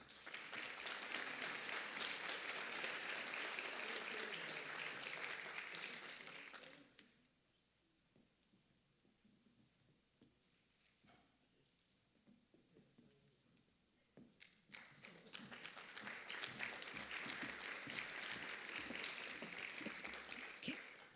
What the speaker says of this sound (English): So applause to Angelique for receiving this award.